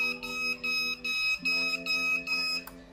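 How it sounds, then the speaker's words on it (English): An ESP8266-based gas leakage safety system sounds its buzzer alarm in a rapid series of loud, even electronic beeps, about six pulses with short gaps and a steady tone throughout. "You can listen the buzzer voices"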